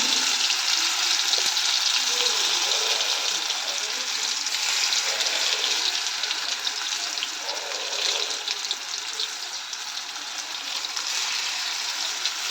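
Ash gourd fritters fry over a low gas flame, giving a loud, steady, bubbly hiss of oil that barely changes across the whole stretch.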